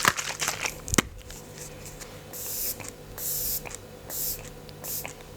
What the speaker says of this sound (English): I'm going to use my setting spray